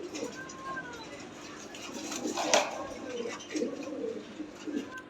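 Fancy pigeons coo softly in a loft, low throaty calls repeating irregularly, while someone talks over them almost the whole time.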